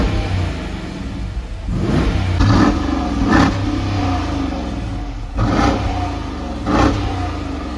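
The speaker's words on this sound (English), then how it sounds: "Nothing else, just raw V8, which sounds pretty good" A 2022 Dodge Durango RT with a naturally aspirated V8 accelerating, its engine rising and falling through several close, throaty surges over a continuous mechanical drone.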